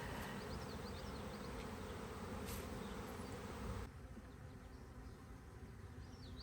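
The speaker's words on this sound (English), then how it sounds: "There's not as many bees flying" A dense, steady buzzing of many honeybees from a swarm flying close by, continuous throughout, easing slightly in loudness partway through.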